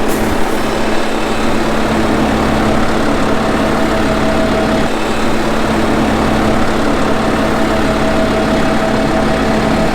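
A New Holland T6 tractor engine runs at a steady drone out in a farm field, loud and continuous with a constant low hum and a faint tonal whine, no voices.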